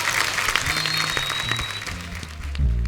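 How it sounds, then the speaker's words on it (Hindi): A studio audience at a comedy talk show gives steady, dense applause, full and sustained from start to finish, with brief chatter faintly underneath. "एक बार वरुण और सारा के लिए जोरदार तालियां।"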